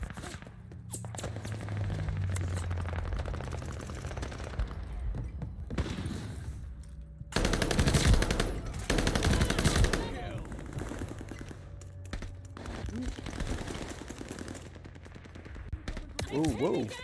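Bursts of rapid gunfire and heavy booming mortar shell impacts in an Xbox Series X shooter, loud clattering volleys separated by quieter stretches, with a voice talking over parts of it.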